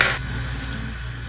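Steady hiss of water streaming from a tap, close and continuous, with a brief louder burst at the start.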